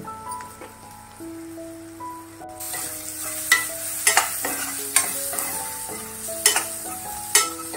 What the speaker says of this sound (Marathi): याच्यामध्ये कांदा चांगला फोडणीत परतून घ्यायचा आहे